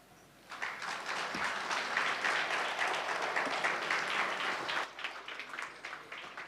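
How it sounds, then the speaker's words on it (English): An audience at a gala dinner claps in sustained, dense applause that starts abruptly, holds at a steady level for several seconds, then thins toward the end as a voice comes in. "another round of applause, please"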